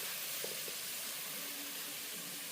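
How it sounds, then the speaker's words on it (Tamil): Leeks sizzle and sauté in a hot pan, giving a faint, steady hiss that runs without a break. "லீக்ஸு வதங்கட்டும்."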